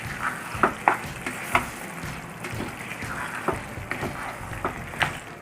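Fresh cream worked into chicken gravy for Patiala chicken in a pan, heard as soft bubbling sizzle with repeated spoon scrapes and taps in an irregular rhythm, close and moderately loud, no talking.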